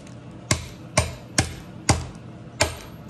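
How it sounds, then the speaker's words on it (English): A meat hammer smashes candy canes in sharp, evenly spaced blows, about six close, loud impacts in a steady rhythm with no voices over them. "Meat hammer or whatever it's called."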